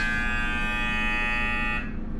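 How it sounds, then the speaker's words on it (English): A loud, steady electronic oven timer buzzer drones for about two seconds, then cuts off abruptly. "really obnoxious buzzer"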